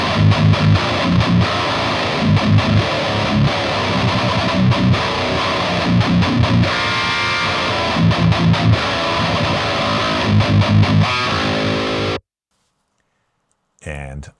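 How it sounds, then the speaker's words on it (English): Electric guitar played through a T808-style boost in front of an amp model on a Fractal Audio AM4, loud distorted chords and chugging riffs that stop abruptly, followed by silence and a brief snippet of speech. "Let's say we want a T808 sound in front of the amplifier."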